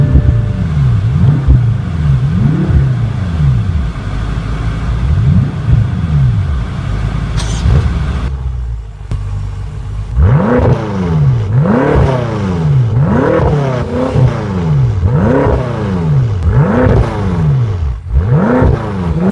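A 2014/2015 BMW M5 F10 engine idles with a steady low rumble, briefly quiets, then barks through its exhaust in a series of loud, rhythmic revs, each rising and falling in pitch, close by with no talk.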